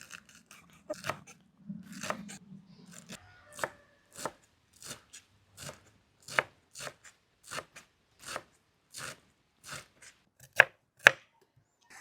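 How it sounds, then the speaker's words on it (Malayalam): Knife chopping fresh mint and coriander leaves on a board for beef dum biryani, a steady run of crisp, close cuts, irregular at first and then evenly paced, with no talking. "നമുക്ക് മല്ലിയിലയും പുതിനയിലയും കൂടി കട്ട് ചെയ്തെടുക്കാം"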